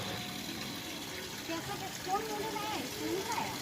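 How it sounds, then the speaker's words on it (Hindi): Fruits for a Chhath offering are washed in water, giving soft splashing and trickling, with a voice talking over it at moderate volume. "किस तरह मेरी बहन सारे फ्रूट्स को धो रही है"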